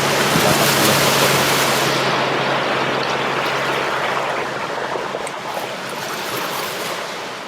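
Ocean waves wash onto a beach in a steady, loud broadband rush of surf that eases slightly after the opening seconds, with no voices present.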